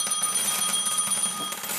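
A jackpot alert tone from a stock-trading notification app rings out as a rapid, bright, bell-like jingle that repeats steadily throughout at moderate loudness.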